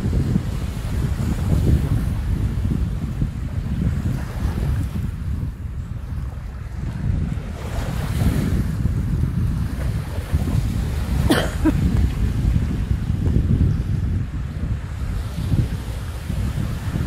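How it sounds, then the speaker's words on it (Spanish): Waves rolling onto the shore at Playa Malvín, a beach on a vast open estuary, a continuous low surging wash with gentle swells, heavily buffeted by wind noise on the microphone. "El ruido, no, el sonido de las olas."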